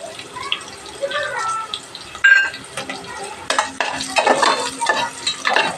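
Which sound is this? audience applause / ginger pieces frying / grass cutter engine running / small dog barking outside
ginger pieces frying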